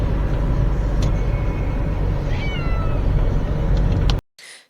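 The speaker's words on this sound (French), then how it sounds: "ce petit concerto de chat offert par Jakarta et Link" Two cats named Jakarta and Link meow against a loud, steady background rumble, a few drawn-out cries rising over the noise before the sound cuts off abruptly.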